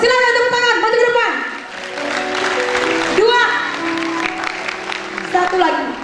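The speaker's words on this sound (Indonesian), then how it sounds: "silakan tepuk tangan, maju ke depan." Audience at a youth Christmas revival service applauding, a steady wash of clapping that runs under loud singing and music throughout.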